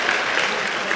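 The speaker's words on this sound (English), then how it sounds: "Can we also give them a round of applause for organizing and putting this together?" Crowd applause at a rally, a dense and steady wash of clapping that fills the whole second with no voices standing out.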